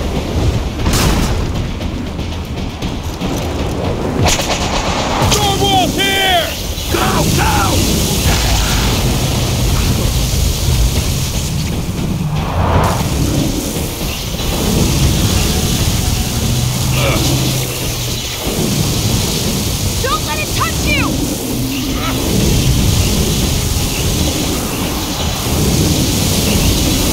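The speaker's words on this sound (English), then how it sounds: "Storm wall's here!" Storm wall from the Gears of War game: rumbling thunder booms and heavy rain roar loudly throughout, with a steady dense wash of noise and occasional sharper crashes and effects layered on top.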